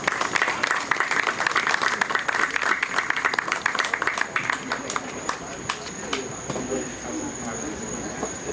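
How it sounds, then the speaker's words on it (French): Applause from a gathering at a 35th anniversary class reunion celebration in Florida, honoring spouses and children, with steady scattered clapping that thins out over several seconds while voices talk in the background. "j'aurais aimé que vous applaudissiez ces époux"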